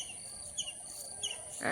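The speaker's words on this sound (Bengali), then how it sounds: "পাখির কলতান সঙ্গে মোরগের ডাক" Small birds chirp and tweet in a village morning, brief scattered calls at a moderate distance over a steady high-pitched background hum.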